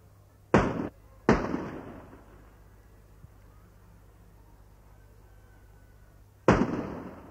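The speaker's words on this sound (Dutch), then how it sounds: "De schoten vanaf de Waterpoort worden door het statenjacht beantwoord." Salute cannon shots fired from the Waterpoort in Sneek and answered by the Frisian state yacht, two loud booms in quick succession, a long gap with faint ambience, then a third blast.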